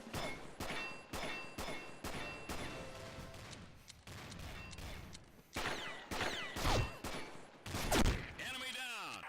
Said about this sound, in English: The shotgun's kind of lame, fellas.